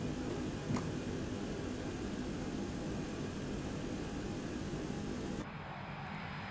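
A Boeing 727-200 in the X-Plane 11 flight simulator makes a quick flyby: a steady, loud jet roar that holds throughout, dropping slightly and losing its top hiss near the end.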